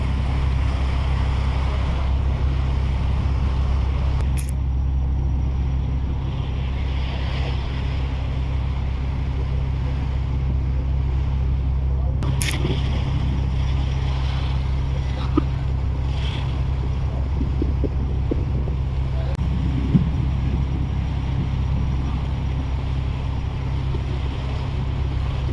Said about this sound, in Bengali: মাছ ধরার ছোট্ট ট্রলার অতিক্রম করছে আমাদের পাশ দিয়ে